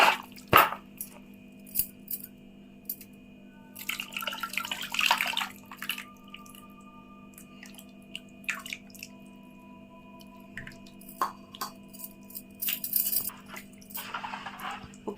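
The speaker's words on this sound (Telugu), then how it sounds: "చింతపండు పులుసు పోసానండి" Tamarind juice is poured into a pot of traditional fish curry, sounding as a trickle and splash of liquid with scattered drips and clinks over a steady low hum, close by and without speech.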